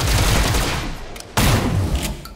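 Gunfire in XCOM: Chimera Squad, a loud broadband volley of shots with a sharp second burst partway through, dense and close with no talking.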